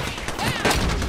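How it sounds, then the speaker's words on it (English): Enemy gunfire in a video game rattles in a loud, sustained volley, the shots blurring into steady automatic fire with one sharper burst midway, close and dominant. "They're shooting at me."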